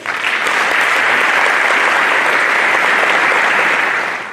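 A loud, steady burst of audience applause for a guest lecturer from the National Academy of Medicine at a medical talk on early-onset familial Alzheimer's, dense throughout and tapering at the end, with no voices.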